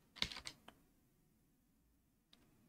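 A few quick, faint keystrokes on a computer keyboard tap out in a short cluster, followed by a pause and one more soft click, in a quiet room.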